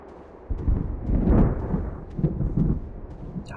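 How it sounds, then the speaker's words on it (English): Deep rolling thunder rumbles through a burnt, ash-covered forest in the hunting game Carnivores Genesis, a continuous low growl that swells and ebbs over several seconds with no voices. "that rumbling thunder just really sets quite the tone along with like the burnt forest"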